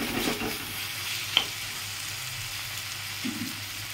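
Potato and pointed gourd curry, with softened tomato and Chandramukhi potatoes, fries steadily in a pan under a soft hiss, with a scrape of stirring and a single clink of the utensil partway through.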